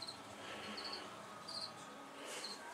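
Four crickets in a bucket chirp in short bursts, close by and fairly quiet, with a steady hiss of insect trilling underneath.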